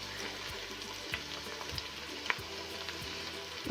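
Garlic paste frying with onions in a pan for vegetable pulao, a steady close sizzle with faint stirring scrapes and small pops throughout, no voices.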